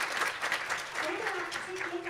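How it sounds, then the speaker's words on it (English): At a children's world peace summit, faint audience applause for the winners rises and falls as a soft, distant wash of clapping, with a voice speaking over it toward the end. "let us give them a huge round of applause, everyone"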